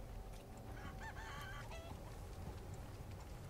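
In the Resident Evil video game, a chicken gives a short burst of clucks over a low, quiet in-game ambient hum, then falls silent while the background drone carries on.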